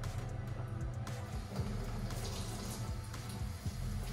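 Water runs steadily as it rinses out a Wagner Flexio 3500 paint sprayer, producing a faint, continuous splashing flow with low background hum and no speech.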